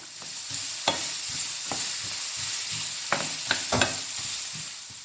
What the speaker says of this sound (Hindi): प्याज को थोड़ा सा फ्राई कर लिए। अब हम इसमें गाजर डालेंगे, ऑलमोस्ट 200 ग्राम।